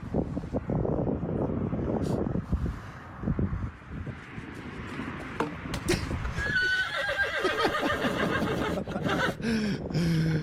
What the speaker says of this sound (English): Yeah, the horse is even laughing.